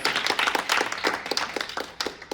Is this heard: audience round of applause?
yes